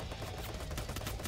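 Rapid gunfire crackles in a Monster Truck-themed video game, a quick burst of sharp repeated shots packed into a second, fairly quiet and with no talking over it.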